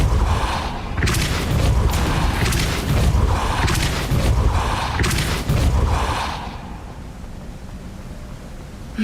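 Depulso spell cast repeatedly in Hogwarts Legacy: a series of heavy, booming whooshes pulsing roughly every second, loud and close, then settling into a low ambient hum.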